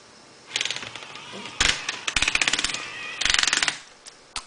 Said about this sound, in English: A lot of rattling on the other side.